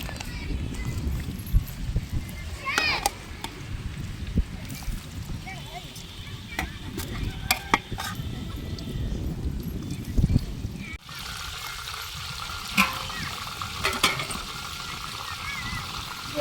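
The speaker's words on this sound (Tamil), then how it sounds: "சோயா பீன்ஸ் நல்லா பொறிஞ்சிருச்சுங்க இப்போ எடுக்க போகிறோம்" Soaked soybean chunks sizzle and bubble continuously in hot oil in a home kitchen, with occasional stirring clinks and a voice talking over the frying.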